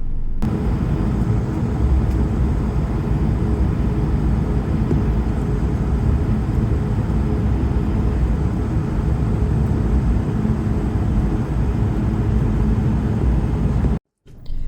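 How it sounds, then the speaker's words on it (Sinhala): An aircraft being readied for takeoff in -21°C cold gives a continuous, loud, even roar that holds for about fourteen seconds before cutting off abruptly near the end. "සෙල්සියස් අංශක -21 දී ගුවන් යානයක් ගුවන්ගත කිරීමට පෙර සූදානම් කරන"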